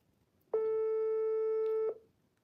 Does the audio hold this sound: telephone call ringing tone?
yes